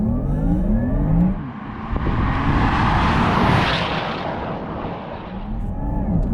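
Porsche Taycan GTS Sport Turismo electric car accelerating hard under launch control, heard from the cabin as a rising whine with a surging rush and a short dip partway through, loud and continuous.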